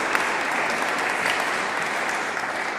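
Audience at a church recital claps in a dense, sustained burst of applause that holds steady throughout, with no talking over it.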